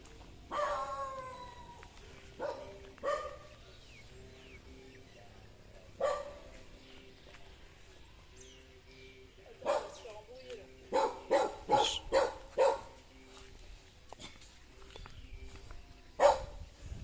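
Several dogs bark in short bursts on an island in Vietnam, some near and some farther off, with a cluster of quick barks midway, while people talk nearby.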